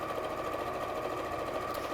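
A sewing machine runs continuously, stitching fabric toward a corner with a quarter-inch seam allowance, a steady close mechanical whir and hum with no speech.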